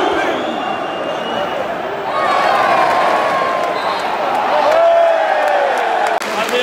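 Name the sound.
stadium crowd applause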